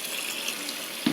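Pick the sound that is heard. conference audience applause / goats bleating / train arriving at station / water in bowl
water in bowl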